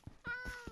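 A Minecraft cat gives one short, clear meow. A couple of soft clicks come just before it, and the sound is close and fairly quiet.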